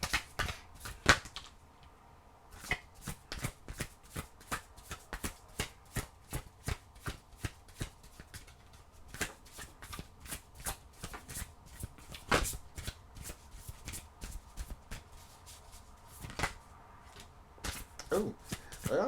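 Tarot cards are shuffled by hand in a quiet room: repeated soft riffling bursts and dense flurries of card slaps, each lasting about a second, in a loose steady rhythm with brief pauses throughout, close and faint.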